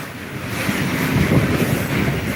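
Long Babaranjang coal freight train passing near Prabumulih, a steady broadband rumble and roar with wind buffeting the microphone, continuous and fairly loud, no voices.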